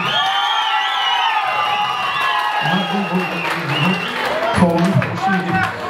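Wedding guests at a youth celebration clap and cheer for team Oralbay, a lively crowd of applause and shouts with music-like tones and voices mixed in throughout.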